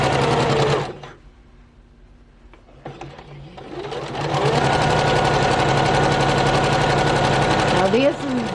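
Sewing machine stitching a seam on fabric postcards, a fast steady mechanical rattle running loud after a short pause and a few quiet handling clicks.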